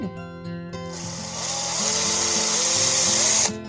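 A power drill whirs up to speed and grinds steadily into wood on a woodturning project for a few seconds, loud and close, then stops.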